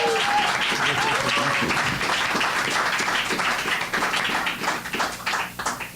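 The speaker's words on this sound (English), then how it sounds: "Give her a round of applause." Audience applause at a Chicago literary magazine release event, a steady wash of many hands clapping that fills the room, with some voices mixed in and a slight thinning toward the end.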